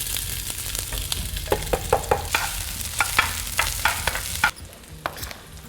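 Three diced onions frying in olive oil in a pan for a pasta sauce, a steady close sizzle broken by a run of sharp scraping stir clicks, easing to a quieter hiss near the end.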